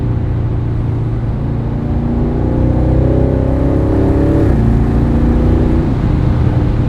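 A 2026 Aston Martin Vantage Roadster accelerating with the top down: a deep exhaust rumble builds into rising revs that climb, shift gear and climb again, loud and close with wind noise and no talking.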